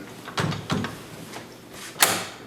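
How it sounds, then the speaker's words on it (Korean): A door being shut at curfew in a women-only apartment building, several muffled knocks and clunks followed by a sharper latch-like bang near the end, close by and fairly quiet, with no talking. "지금 이제 통금 시간이라 이제 문을 닫아야 되거든요"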